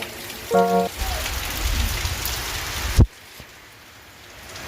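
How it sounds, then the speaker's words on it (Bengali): Heavy monsoon rain pours down steadily at midday, a dense hiss of drops hitting surfaces, with a brief beeping tone early and a sharp knock before it quiets. "বৃষ্টি পড়ছে প্রচণ্ড"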